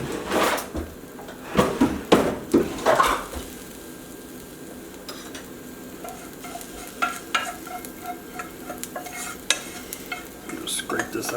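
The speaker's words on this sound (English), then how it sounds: "Plop my rice down in there" Cooked rice plops and scrapes into a mixing bowl while backpacking meals are portioned at home, giving several close, soft thuds and utensil scrapes early on, then lighter clinks and taps of kitchenware.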